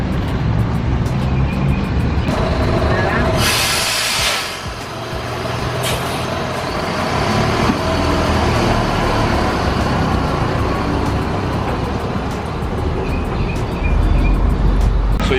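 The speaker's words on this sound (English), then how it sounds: "there are many buses that pass here" Buses and heavy traffic pass along a busy street in Mexico, a continuous loud rumble of engines with a sharp hiss of air brakes and swelling passes, no one talking.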